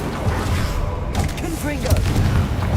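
Incendio fire spell cast in Hogwarts Legacy gameplay: a burst of whooshing flame amid a dense, rumbling combat din, with brief whistling magical tones and a loud, continuous background.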